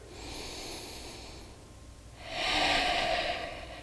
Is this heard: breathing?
yes